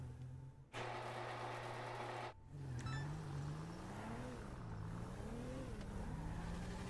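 Car engine without a turbo in GTA Online, revving and droning with rising and falling pitch as the vehicle accelerates and shifts, steady and fairly close, with no talk.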